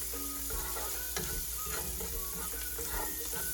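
Vegetables with chicken cubes for lumpia filling being stirred in a hot pan, steady sizzling frying with repeated scraping and clacking of the utensil, close and alone.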